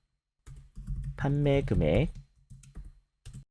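Computer keyboard keys are pressed for an Alt, A, C shortcut while working in Tableau, giving a few sharp, close taps before and after a stretch of speech.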